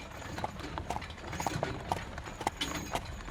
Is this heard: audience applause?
no